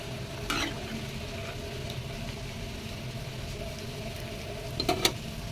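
Katla fish curry with taro being sautéed in a pan, a steady close sizzle and frying crackle with occasional stirring scrapes, a couple of sharper clinks near the end.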